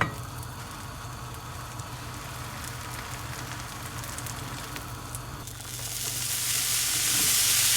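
Butter sizzles in a pan for a grilled cheese sandwich, a dense, steady hiss close by that swells louder and brighter near the end.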